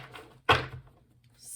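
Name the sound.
cutting a tarot card deck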